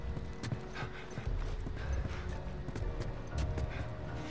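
Horse hooves clip-clop in the video game The Last of Us, steady uneven footfalls at close range over a busy game soundscape with faint mechanical clicks.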